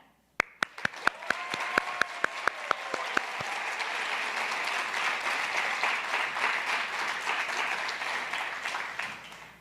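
A few separate sharp claps open, then a gala audience joins in sustained applause, a dense, even patter of many hands that carries on steadily to the end.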